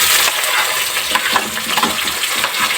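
Four chopped tomatoes going into a pan of frying onion seasoning, a steady loud sizzle and crackle with scattered clinks and stirring, no talking.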